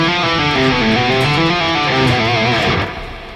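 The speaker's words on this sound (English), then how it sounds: "you'll just do a bunch of hammer-ons and pull-offs" A legato guitar run played with hammer-ons and pull-offs, a smooth, fast stream of connected notes with soft attacks, loud and close with no talk, easing off near the end.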